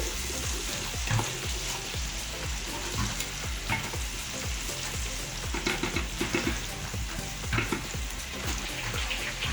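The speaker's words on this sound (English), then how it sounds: "And in goes my pepper mix into my bleached palm oil" Pepper mix sizzles and fries in bleached palm oil with onions, iru (locust beans) and stock cubes for an assorted meat buka stew, a steady close crackle with occasional stirring clatter throughout.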